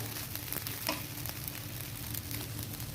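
Rice frying in a pan for Bengali basanti pulao, a steady, close sizzle with faint stirring scrapes, no talking.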